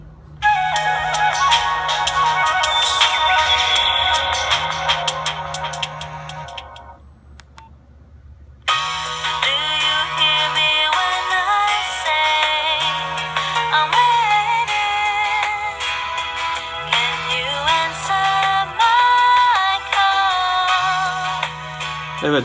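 Polyphonic ringtone from a Nokia 1600 handset, a busy electronic tune with a pulsing low beat, briefly fading out near the middle and then resuming, loud and continuous with no voices.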